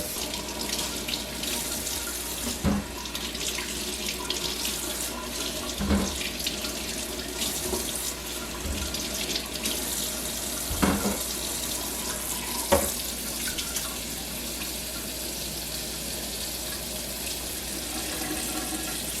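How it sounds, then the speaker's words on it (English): Steady tap water runs into a sink as smoked turkey tails are rinsed, a continuous close rush broken by occasional louder splashes and knocks. "I'm just going to rinse them off just because I like to rinse off meat when I get it at the store."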